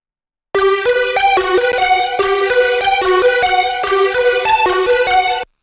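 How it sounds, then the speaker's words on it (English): A dry Serum synth patch built on the Evo Longreese wavetable with heavy unison plays a bright, buzzy melodic line of short repeated notes for about five seconds, alone and up front in a techno production setting. "the serum patch on this one sounds like this."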